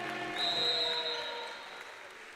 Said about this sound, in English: Pretty good crowd here for a Friday night, Dylan, making some noise